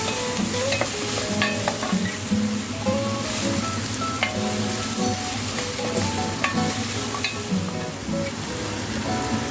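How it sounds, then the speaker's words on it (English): Butternut squash sautés in a pan, with a steady close sizzle and frequent scraping stir clatter from a utensil throughout, and no talking. "Add in our buttersquash. Keep on sauteing until it is"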